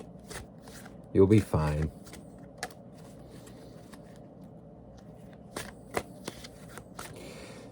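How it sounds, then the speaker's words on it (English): A deck of tarot cards is shuffled up close in one quick riffle burst, followed by scattered soft taps and clicks; someone speaks briefly. "So I shuffled this deck, okay, as you saw."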